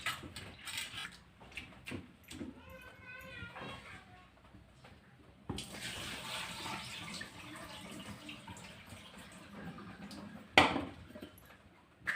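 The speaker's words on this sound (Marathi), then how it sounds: "डाळ धुते आता।" Chana dal for puran being washed in water: sloshing, splashing and trickling in uneven bursts, with a louder splash near the end and occasional clinks from the vessel.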